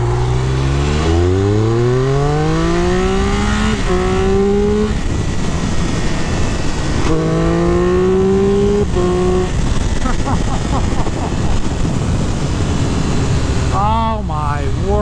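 A 2023 Triumph Speed Triple RR 1200 cc motorcycle accelerates hard, its engine note climbing in rising sweeps cut by quick, clutchless quick-shifter upshifts, loud and close with wind rush throughout, and people talking over it.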